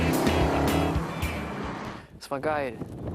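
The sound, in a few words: tuned Aston Martin V12 Vantage driving on a track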